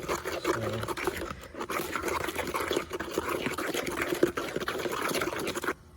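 Water is poured and stirred into a batch of homemade dishwashing liquid, a steady close liquid swishing and scraping that runs continuously, with no talking.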